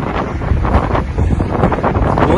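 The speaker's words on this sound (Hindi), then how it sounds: "बहुत ठंडी हवा चल रही है" Cold wind blowing under dark rain clouds on a road outdoors, buffeting a microphone with loud, gusty rumbling that fills the whole clip, with no talk.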